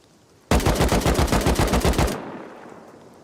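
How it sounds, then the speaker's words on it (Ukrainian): Automatic gunfire in the survival game Rust: a loud, close burst of about twenty rapid evenly spaced shots lasting under two seconds, then a fading echo, with no talk over it. "Там десь Семік стріляв"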